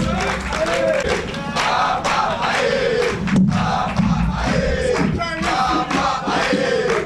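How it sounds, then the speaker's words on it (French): A crowd at a press conference in Paris cheers, shouts and applauds in a loud, continuous roar, with excited voices rising and falling over dense clapping. "Applaudissez très fort pour l'honorable Zachary Bababas."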